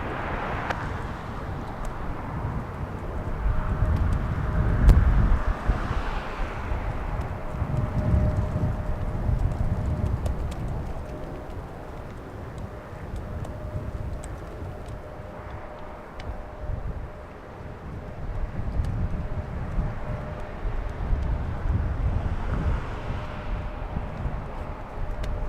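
A Lufthansa Boeing 777 taking off from Los Angeles International Airport, a distant broad jet roar that rises and falls in long rumbling swells and carries on for the whole stretch.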